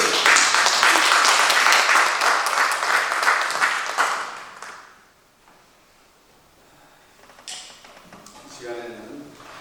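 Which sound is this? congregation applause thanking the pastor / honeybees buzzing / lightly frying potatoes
congregation applause thanking the pastor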